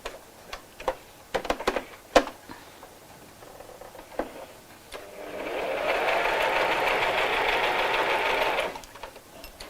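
Home sewing machine stitching fabric for a first tote bag, starting with a few scattered clicks and taps, then a steady, fairly loud run of continuous stitching for several seconds before it stops.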